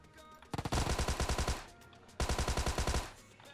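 Two loud, close bursts of rapid automatic gunfire in the mobile battle royale game PUBG Mobile, each about a second long with evenly spaced shots, separated by a brief lull.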